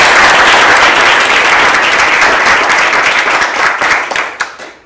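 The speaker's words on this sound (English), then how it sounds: "Can we give another round of applause to Ethan, Nick, and Anna?" Loud, close applause from a school audience at a centennial book release, honoring students who read essays aloud, holding steady for several seconds before tapering off at the end.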